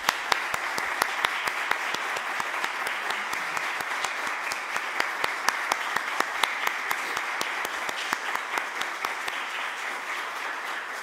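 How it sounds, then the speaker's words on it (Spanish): A room of people at a book presentation applauds Dr. Irene Fernández Aponte with sustained, even clapping, individual claps audible as a steady rapid patter for the full stretch without fading. "Démosles un fuerte aplauso a la doctora Irene Fernández Aponte."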